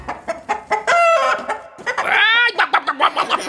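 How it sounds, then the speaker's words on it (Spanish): A chicken clucks and cackles in a lively series of sharp calls, including a drawn-out crow-like cackle, close and loud with no talking. "¡Las gallinas hacen así!"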